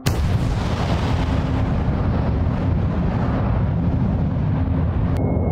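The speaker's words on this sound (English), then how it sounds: "when you listen to those three explosion sounds stacked together, it creates a much wider sound effect." Three layered explosion sound effects hit at once as a loud, wide boom that rolls on as a deep rumbling tail for several seconds, with no speech.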